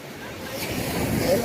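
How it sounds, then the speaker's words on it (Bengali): Ocean surf rolling onto the beach at Puri, a steady broad wash of water that swells slightly louder toward the end, with faint crowd murmur and voices in the background. "প্রচুর জলের আওয়াজ"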